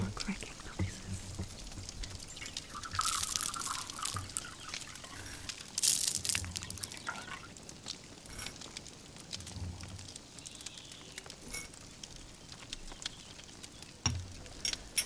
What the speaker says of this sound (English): If you pour the hot tea over the sugar, it makes delightful cracking noises.